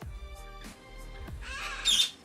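Birds squawk at Magnolia Bird Farm, with a sharp, bright burst standing out near the end after quieter low rumbling and scattered calls.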